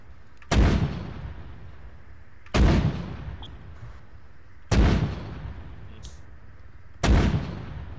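Four heavy mortar rounds launch one after another in ArmA 3, each a deep booming thump with a long fading tail, spaced about two seconds apart.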